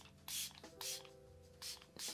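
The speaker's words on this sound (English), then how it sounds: "I have a feeling this will go on better if I put my setting spray on and then put it on." A milk makeup setting spray is misted onto the face in four short, close hissing bursts, with brief quiet gaps between them.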